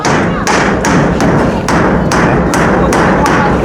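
Corrugated zinc roofing sheets hammered onto a house roof: sharp, evenly spaced blows, roughly eight in a row, over a loud, constant noisy background.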